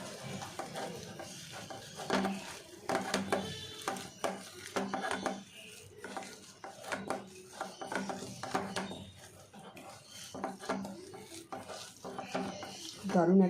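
Soft, irregular squelching and scraping of mashed potato being kneaded by hand with spices such as Maggi masala and kasuri methi for paratha filling, with light clinks of a bowl, close and moderate in level, no talk.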